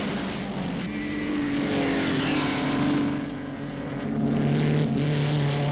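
Racing cars roar past at the 1960 Bathurst 100 Easter race, engine drone rising and falling as cars pass, a steady mid-distance growl with shifting pitch and no voices.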